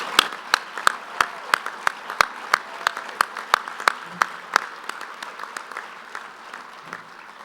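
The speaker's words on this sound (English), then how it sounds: "let's all give them a huge round of applause." Applause at the American Quarter Horse Association membership general meeting as staff rise, a sparse indoor audience clapping with a few sharp distinct claps standing out, gradually thinning and fading.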